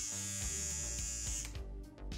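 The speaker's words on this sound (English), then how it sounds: "The electric toothbrush used was an Oral-B Complete AA battery-powered toothbrush." An Oral-B Complete AA battery-powered electric toothbrush runs with a loud steady mechanical buzz, its tone wavering and stuttering near the end as it is handled.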